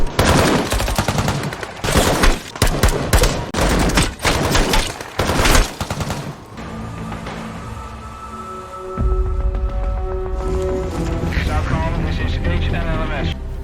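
Rapid bursts of gunfire crackle back and forth for several seconds, loud and close, then fade into a lingering rumble and tone.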